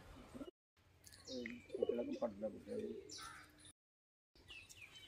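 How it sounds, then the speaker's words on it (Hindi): Soft, low pigeon coos repeat in short bursts amid outdoor background noise, with a few chirps and brief silent gaps. "अभी साईं जी अपने कबूतर को अंदर भेज रहे हैं, चेक करें कैसे उड़ के गए हैं।"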